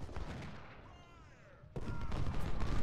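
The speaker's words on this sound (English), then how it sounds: "He should be shooting at Terry's brigade." Musket volleys from Ultimate General: Civil War rumble as scattered distant fire that builds into a louder, dense crackle of massed shots partway through.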